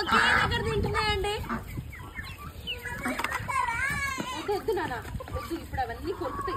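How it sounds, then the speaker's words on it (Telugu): Ducks, chickens and ostriches feed together in one spot, with busy clucking and squawking close by, while people talk over the birds throughout. "బాతులు, కోళ్ళు, నిప్పు కోళ్ళు, చీమ కోళ్ళు అన్ని ఒకే దగ్గర తింటున్నాయి"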